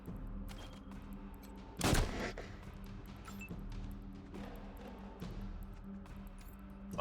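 Gunfire during a Wasteland 3 tactical battle, a sharp loud burst near the middle over a steady background of game ambience and scattered smaller impacts.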